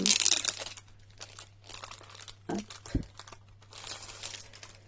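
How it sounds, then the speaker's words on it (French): Crinkly decorative paper printed with kites, somewhere between tissue and plastic, crackling and rustling in quick bursts as it is handled, with a voice talking now and then. "Donc c'est du papier."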